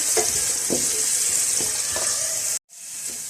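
Small carrot cubes frying in a pan, a loud, even hiss of oil with a few soft stirring knocks, ending in a sudden brief silence before the sizzle returns; no speech.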